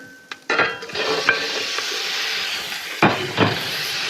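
Meat dropped into a hot pan with pancetta and garlic for a lamb and pepper ragù, bursting into a loud sizzle with stirring scrapes and a second surge of frying hiss partway through, close and without speech.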